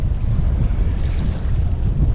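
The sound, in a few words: breeze blowing while sailing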